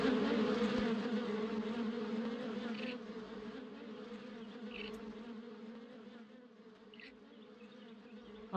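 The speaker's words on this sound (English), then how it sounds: "Oh, I hear bees" A swarm of bees in a video game buzzes in a continuous, close drone that eases slightly in loudness over several seconds.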